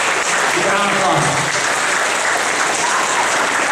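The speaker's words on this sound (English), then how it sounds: "Big round of applause." Audience at a community graduation ceremony applauding, a steady dense wash of clapping filling the room throughout, with faint voices beneath.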